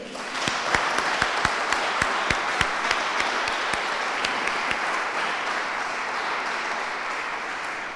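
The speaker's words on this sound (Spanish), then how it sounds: "Para todos ellos, un fuerte aplauso." Audience applause at a presentation of a new theology course year, a steady dense wash of many hands clapping for the full length, with a few louder nearby claps standing out at the start.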